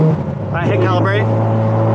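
Mazda FD RX7 cruising at steady speed, a continuous engine drone from inside the car with brief warbling tones over it and a voice talking early on.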